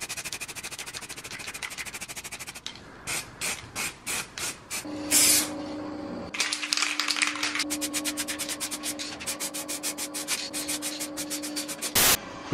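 A spray can paints BMW E36 kidney grilles black, first in a run of short, evenly spaced hissing bursts, then in long near-continuous spraying with a faint steady hum underneath, close and fairly quiet.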